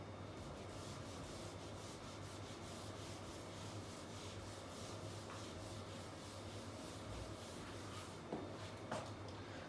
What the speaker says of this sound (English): I will rub this.